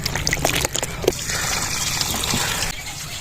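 Water is poured over raw liver in a pot for washing, a continuous splashing pour with a few sharp knocks, and someone speaks briefly over it.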